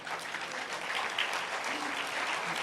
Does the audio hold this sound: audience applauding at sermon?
yes